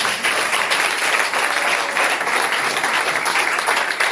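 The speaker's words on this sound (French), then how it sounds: "Applaudissons pour le Seigneur." Loud, dense applause fills a church service as the congregation claps for the Lord, a continuous close wash of many hands without pause.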